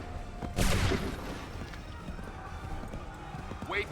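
Gunfire in Assassin's Creed III: a loud volley bursts out near the start and rolls off into a fading, rumbling echo, with scattered battlefield noise behind it and a brief voice-like sound at the end.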